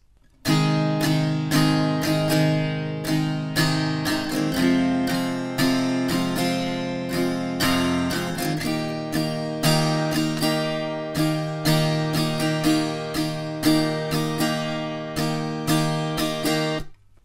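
Acoustic guitar strumming the pre-chorus chords of a song, a steady rhythmic pattern of bright strums with a chord change about halfway, played alone, close and clear.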